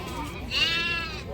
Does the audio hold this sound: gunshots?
no